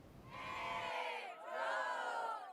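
A crowd of karate cadets cheers and chants in Cairo International Airport's arrival hall, a sustained, moderately distant chorus of voices rising and falling in two swelling waves.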